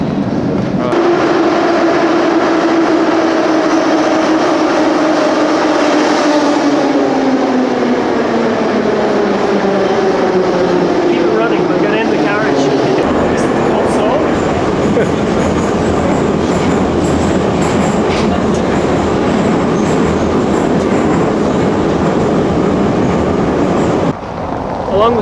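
Moscow metro train riding, a loud continuous rumble inside the carriage with a whining tone that falls as the train slows and steady rattling wheel noise after, heard from within the car.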